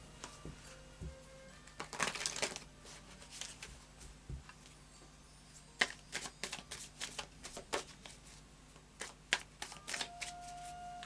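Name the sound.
tarot cards being handled and drawn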